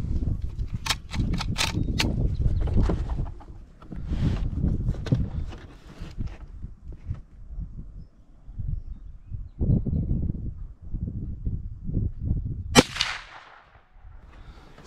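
A Henry Big Boy rifle fires 110-grain .357 Magnum rounds, six shots in all, at targets on a range. The sharp reports come at irregular intervals and sound moderately distant, with quieter handling noise between them.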